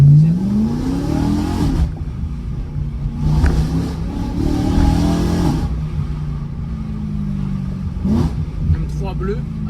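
A BMW M3 E92 fitted with an aftermarket silencer revs its engine in a few rising blips and a sustained growl, close and loud, while someone talks over it.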